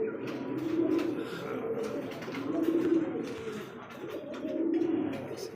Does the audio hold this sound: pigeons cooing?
yes